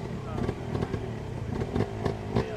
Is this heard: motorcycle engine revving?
yes